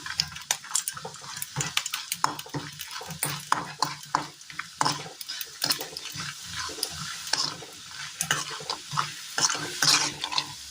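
Tapioca pieces deep-fry and crackle in hot oil for a snack, with busy bursts of frying and occasional scrapes and clinks of a utensil stirring in the pan.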